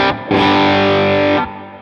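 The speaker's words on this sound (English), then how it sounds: "here's what it sounds like on the single coil preset" A 2009 PRS McCarty electric guitar on a single-coil preset rings out in a short strummed phrase, with a brief opening chord, a pause, then a sustained bright, slightly driven chord that decays near the end, played alone and up close.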